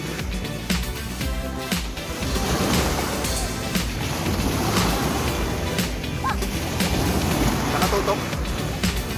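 Sea waves churn and slosh around people bathing off the shore at Lobo, Batangas, a continuous close splashing wash with occasional louder surges, while voices talk over it.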